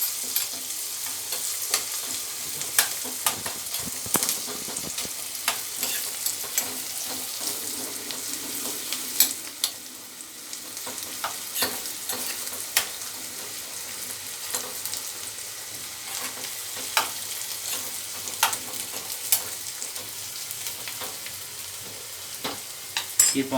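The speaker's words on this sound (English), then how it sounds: "Increase the heat, mix it well while the mixture is getting" A spinach and mustard greens mixture for sarson ka saag cooks over high heat while it is stirred, giving a continuous sizzle under frequent scraping and tapping strokes, close and with no talking.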